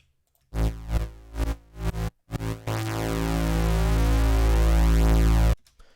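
A basic synth bass in FL Studio with no sidechain, a few short stabs and then a loud, sustained buzzy tone that swells steadily and holds for about three seconds before cutting off.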